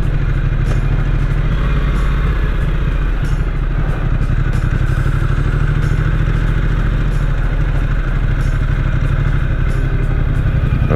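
A Ducati XDiavel motorcycle accelerating in touring mode through city streets, its close, loud engine holding a steady, continuous drone for the whole stretch with no talk.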